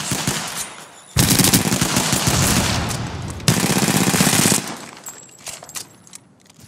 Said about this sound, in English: I'm taking shots.